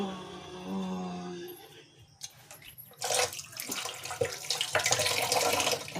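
Fish being rinsed under a running kitchen tap, the water gushing steadily and splashing louder in the second half after a quieter start with no talk.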